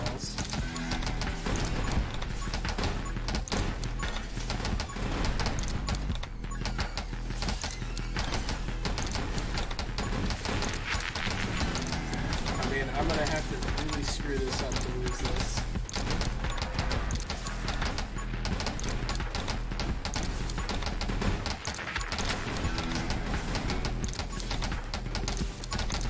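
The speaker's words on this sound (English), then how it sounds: "It sounded like a horse die or something." Horse sounds from the video game 20 Minutes Till Dawn: a continuous dense clip-clop with neighing and whinnying layered over constant game music and effects, loud and busy throughout.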